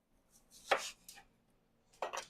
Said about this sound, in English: I don't like cutting rings like this because the onion is unbalanced